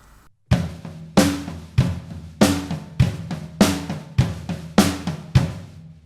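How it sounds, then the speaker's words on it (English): A drum kit plays a straight eighth-note rock groove, the right hand on the floor tom instead of the hi-hat, with kick on 1 and 3 and snare on 2 and 4, about nine steady, punchy hits, close and alone. "First step, we're just going to play a straight up 8th note rock groove"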